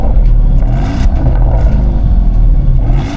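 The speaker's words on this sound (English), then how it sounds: "the quad tailpipes, which sound absolutely incredible, whether it's a cold start, whether it's upshift, downshift" A Porsche Cayenne GTS engine revs through quad tailpipes in a loud, deep rumbling burble with rising and falling throttle blips, close and heavy.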